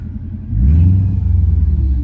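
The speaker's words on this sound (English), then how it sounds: "barely revving it up." A Mercedes-Benz car engine, with its check engine light on, idles low, then gets a gentle rev that holds as a deep, steady rumble, close by.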